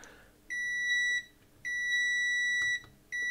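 A multimeter in continuity mode sounds three sustained electronic beeps, each about half a second to a second long, while probing circuit board vias on an Atari 130XE computer, close and clear over faint background noise.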